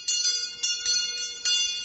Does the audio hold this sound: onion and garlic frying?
no